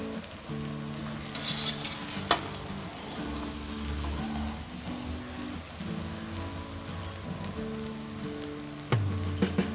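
Cooked rice stir-fried with onions, tomatoes and spices, with close sizzling throughout and intermittent scraping stirs of a spoon in the pan.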